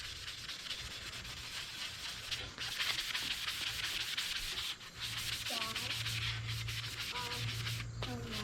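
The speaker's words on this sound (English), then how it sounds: "that's a pretty good sanding on that cup" Steady, quiet rasping of sandpaper rubbed continuously across a tumbler cup, with a low hum running underneath.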